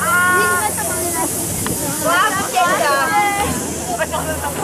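Children imitate hissing snakes as a group, a loud continuous breathy hiss running throughout, overlapped by scattered shouts and squealing voices nearby.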